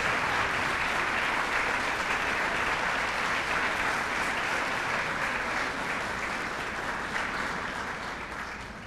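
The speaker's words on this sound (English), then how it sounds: "Would you stand up so we can give you a round of applause?" Dense, steady applause from a seated crowd at an award luncheon, a continuous wash of many hands clapping at once, loud and close throughout, tapering slightly near the end.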